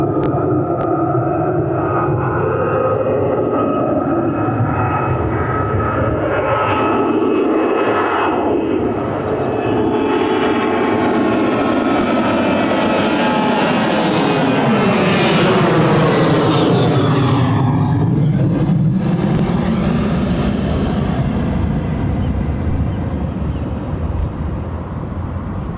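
A ten-year-old Jet2 Boeing 737-800 airliner at Birmingham Airport produces a loud, continuous jet engine roar whose whine rises and sweeps upward toward the middle, then settles into a steady broad rumble, with no talk.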